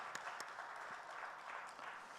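A church congregation applauding during a Sunday worship service, heard as a faint, distant, steady wash of clapping from a large crowd with no distinct individual claps.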